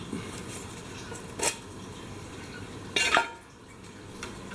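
A standard-issue aluminium canteen cup stove is pulled off its cup, giving two short metallic clanks and scrapes about a second and a half apart, close by and alone over a quiet room.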